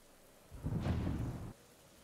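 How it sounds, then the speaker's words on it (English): Rolling thunder during a golf broadcast at the British Open, a single muffled low rumble swelling and fading over about a second, fairly faint with no talk over it. "this sound of the thunder is coming through both sides of the headphones"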